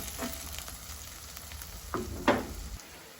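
Garlic and potato sautéing in a pan for a spicy Jaffna crab curry, a short burst of close sizzling with a couple of scraping stirs.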